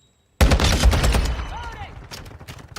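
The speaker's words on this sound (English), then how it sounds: "Those shots are on target." Gunfire in Call of Duty Modern Warfare II: a loud, dense burst of rapid shots that starts abruptly after brief silence, followed by scattered further shots and fading echoes.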